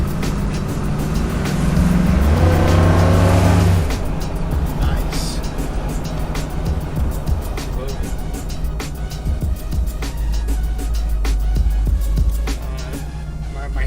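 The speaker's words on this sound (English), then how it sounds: "letting me drive this classic old car here, man. 1978 Pontiac Trans Am" A 1978 Pontiac Trans Am, a black and gold numbers-matching classic, rumbles along on the road with a low, loud engine drone that swells around the start, while people talk over it inside the car.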